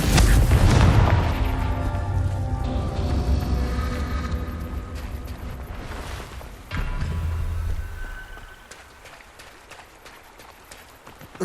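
A Confringo blasting spell goes off in Hogwarts Legacy with a loud booming explosion at the start that rumbles and fades. A second thump follows partway through, with ambient game sounds after it.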